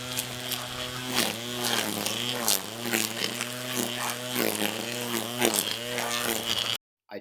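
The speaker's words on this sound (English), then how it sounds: "Now I'm ready to give it a good trim off around the edge." Electric trimmer cutting back Snow-in-Summer along a rocky border edge, a loud continuous buzzing motor whose pitch dips and rises as it bites into the foliage, stopping abruptly at the end.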